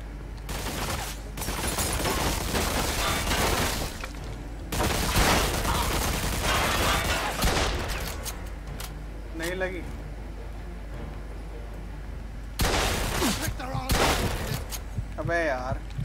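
Shotgun blasts ring out in Mafia 2 gameplay: loud, repeated bursts of gunfire in clusters, with someone talking over much of it.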